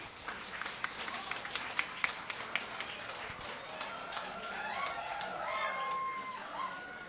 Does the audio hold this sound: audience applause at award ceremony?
yes